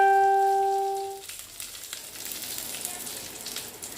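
Dried red chillies, cardamom pods, cinnamon and cloves hit hot oil for a Bengali chana dal, giving a steady close hiss and crackle after a brief tonal sound at the start.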